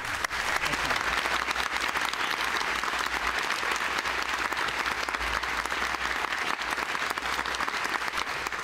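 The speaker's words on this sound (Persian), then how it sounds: "تشویقشون کنید." Sustained audience applause at a Persian-language game show, a dense, steady wash of many hands clapping at even loudness for the whole stretch, with no voices over it.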